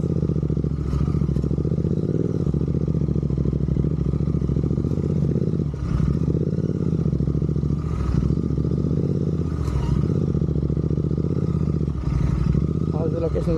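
Royal Enfield Interceptor 650 twin climbing a hill road, its engine a steady loud drone with wind rumble throughout, a rider talking over it.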